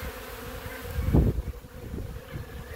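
Honeybee swarm descending onto another colony's hive, a steady close buzzing drone of many bees that swells briefly louder midway, with no talk.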